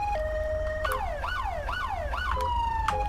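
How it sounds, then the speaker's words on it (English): An old London Metropolitan Police siren in a video game, GTA 5, wails with a rising-and-falling yelp, cycling several times before settling into a steady tone, loud and close. "this is the old Met siren that you would have heard"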